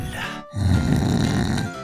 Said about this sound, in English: Are you snoring?